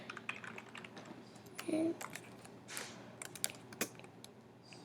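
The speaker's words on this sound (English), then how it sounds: "now just open a new tab and type in maze generator" Scattered keystrokes on a computer keyboard, with a short burst of clicks in the middle and a few sharper taps near the end, fairly faint against a quiet room background.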